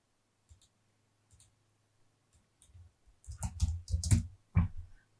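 Computer mouse clicks while removing a tab item in low-code app-building software: a few sparse, quiet single clicks, then a cluster of louder, closer clicks and clacks near the end, with no talking.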